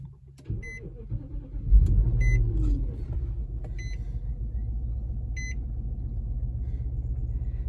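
An Infiniti or Nissan engine with a cylinder 1 misfire code cranks and catches with a brief surge, then settles into a steady low idle while a chime beeps at regular intervals.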